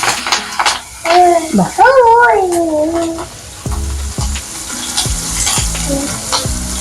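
Asafoetida, curry leaves and green chilies crackle and sizzle in hot oil, loud and close. A steady frying hiss runs under a person talking, with stirring clinks near the end.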